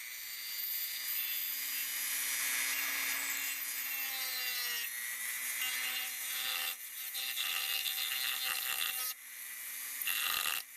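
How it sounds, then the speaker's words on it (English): A rotary sandpaper bit sanding a 3D printed piece, a continuous close high-pitched whine and abrasive grinding that dips in pitch as it bites, with brief pauses and restarts, no talk. "This is just sandpaper, really. It's a sandpaper bit. And I can just go through."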